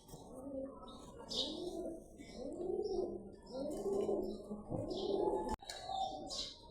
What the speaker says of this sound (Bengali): এটা মাদি কবুতর, সব রেজাল্ট করা মাদি।